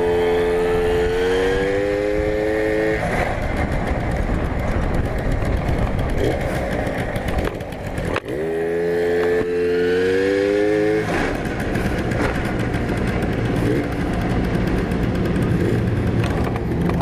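Tomos moped engine revving loudly up through the gears during a ride, rising whines repeating twice with a brief drop between, steady buzzing drone and rushing wind close to the microphone.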